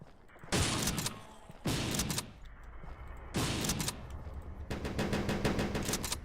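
Shotgun blasts in the game Postal: three heavy, booming shots spaced about a second apart, each with a long rumbling tail, followed by a rapid rattling burst of fire.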